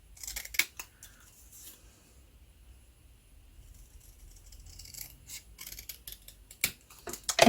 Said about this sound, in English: Let's just trim it down each side.